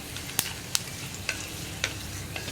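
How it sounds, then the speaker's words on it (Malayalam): Cardamom and fennel seeds frying in hot oil in a pan while being stirred, a soft continuous sizzle with several sharp scrape-clicks of the spoon against the pan at irregular intervals, close and alone. "ഇനി ഇതൊന്ന് കുക്കായി വരുന്നത് വരെ ഇളക്കി കൊടുക്കുക"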